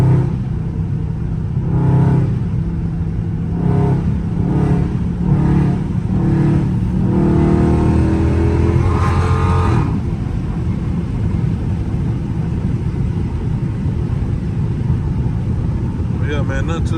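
A loud Dodge Charger Scat Pack engine revs hard on a cold drive, with repeated rising bursts for about ten seconds, then a steady rumbling roar with wind noise through cracked windows.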